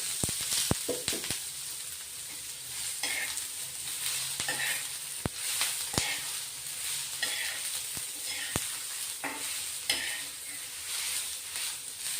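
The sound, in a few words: onions frying in oil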